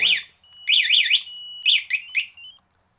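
A Spy 5000m alarm fitted to a motorcycle goes off in bursts of shrill, warbling electronic siren tones with short gaps and changing patterns, loud and close.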